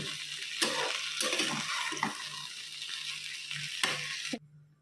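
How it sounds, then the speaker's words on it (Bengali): Soaked soybeans and vegetables fry together in a pot, a steady close sizzle punctuated by several stirring scrapes, stopping suddenly near the end. "আলাদা করে আমি আর সোয়াবিনগুলো ভাজবো না তো একসাথে দিয়ে ভালো করে ভেজে নেব"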